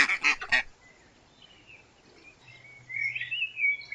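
A cartoon duck quacks in a short burst of three bright honking calls, followed by softer, drawn-out duck calls near the end, heard alone and close.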